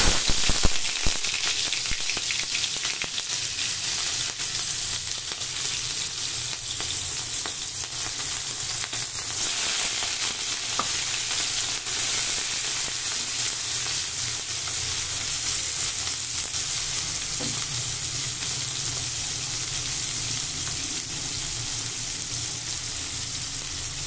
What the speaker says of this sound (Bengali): এগুলো আমি পরপর একটা একটা করে তেলে দিয়ে দেবো।